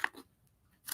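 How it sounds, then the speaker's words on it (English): Scissors cutting the edge off stickers: a crisp snip right at the start and another near the end, close and fairly quiet, with near silence between them. "I just have to cut the edge off of the stickers."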